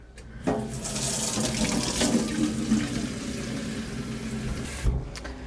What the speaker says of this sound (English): I guess I'll fill this with water